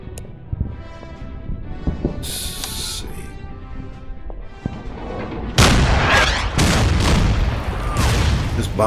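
Artillery bombardment in the World War II strategy game Order of Battle, a series of shell bursts and booms, with a loud heavy barrage arriving midway and continuing to the end.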